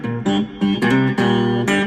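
Three-string cigar box guitar played in a boogie style with hammer-ons, plucked with thumb and first finger; a short run of close, bright rhythmic notes in a repeating shuffle pattern.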